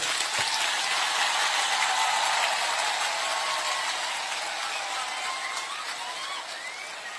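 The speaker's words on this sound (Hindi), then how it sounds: "सबसे बड़ा ताली आपको होना चाहिए।" A crowd at a gathering applauds in a steady, dense wash of clapping that stays strong for several seconds and then slowly fades.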